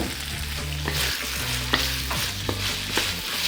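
Pork and garlic scapes stir-fry in a hot pan with a steady sizzle, broken by scraping spatula strokes and a few sharp clinks, close and alone with no talk.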